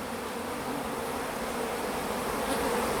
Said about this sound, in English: and yellow jackets have been out here trying to rob out the colonies